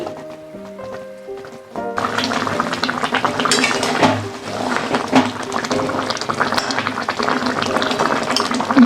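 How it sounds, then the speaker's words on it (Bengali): Pumpkin and jackfruit-seed curry bubbling hard in a pot, a steady, fairly loud bubbling and sizzling that sets in after a quieter start and runs on continuously. "এবার ভালোভাবে ফুটিয়ে নেব"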